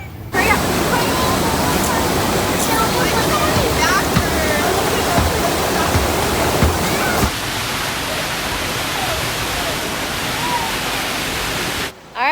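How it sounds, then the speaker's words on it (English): Rushing whitewater on an amusement park rapids raft ride roars steadily and loudly throughout, a dense wash of churning water that drops slightly in intensity partway through, with voices faintly mixed in. "Now we're getting on Whitewater Canyon. It's a water ride."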